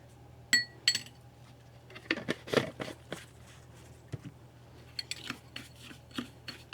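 Mixing coconut oil into a homemade foot scrub for dry, cracked heels, heard as scattered clinks and scrapes of a utensil against a bowl, some sharp taps among softer rubbing, close by with no talking.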